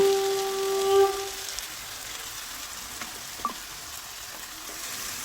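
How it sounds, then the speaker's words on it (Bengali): Salted bottle gourd tipped into a pan of fried Gobindobhog rice gives a steady, moderate sizzle and crackle of frying, with a brief bump of louder hiss near the start and a small clatter partway through. "এবার আমি লবণ মেখে রাখা লাউটা এর মধ্যে দিয়ে দেব"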